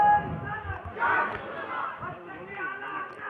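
A gathered crowd at an Eid religious address in Jharkhand shouts a call-and-response chant, loud massed voices swelling and falling in uneven bursts.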